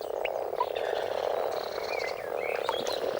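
Common frogs croak in a dense, continuous chorus at a breeding pond, many overlapping calls forming a steady rasping din with scattered higher chirps and no voices.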